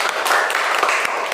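Brief applause for a student named Farha in a shot put lecture class, a short burst of scattered hand claps, fairly close, with faint talk underneath.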